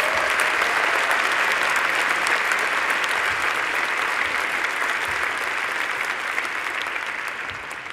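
Sustained, dense applause from a large crowd at a Faculty of Engineering graduation ceremony, honouring civil and environmental engineering graduates, loud and even throughout and easing slightly near the end.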